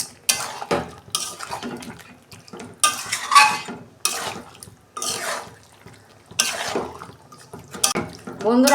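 Chicken meat with spices is stirred in a wok, and a spatula scrapes and clanks against the metal in repeated close bursts with short sizzling pauses between strokes.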